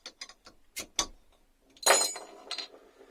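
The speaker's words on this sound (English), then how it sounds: "Right then, let's open this bottle." A bottle of Ross-on-Wye Dabinett cider, unfiltered and bottle conditioned, being opened: a run of small metallic clicks and clinks from the cap, then a sharp hiss of escaping gas, close up and with no talking.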